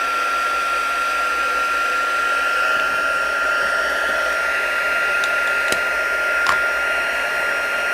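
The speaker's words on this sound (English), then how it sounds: "this heat tool needs a little bit of warming up" Embossing heat tool warming up for a textured Christmas card, a steady close blowing hiss with a faint whine, running continuously with no talk.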